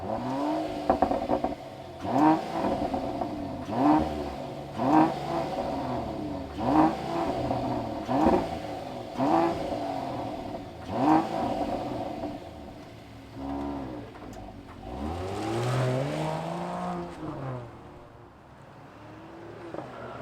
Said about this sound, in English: let's fire up this GLE 53 and hear what it sounds like